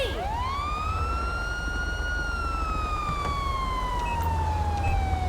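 A California Highway Patrol siren in Grand Theft Auto wails steadily, its pitch rising sharply then slowly falling, loud and close over a low engine rumble, with no talking.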